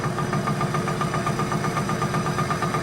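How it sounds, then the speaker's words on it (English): A vintage Bosch distributor is spun on a test setup at about cranking speed, giving a steady close mechanical whir with a fine, rapid rhythmic ticking and hum that carries on without a break. "I'm turning the distributor right now at about cranking speed"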